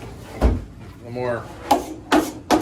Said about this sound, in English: I grab a rasp and give it some roughen up.